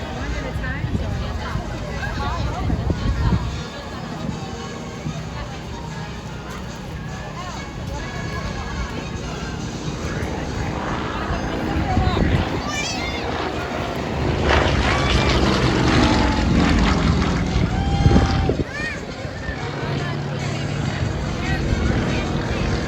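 A propeller aerobatic airplane performs at the 2024 Beverly, Massachusetts airshow, its engine droning and surging as it climbs and dives, loud and continuous, with an announcer talking over it.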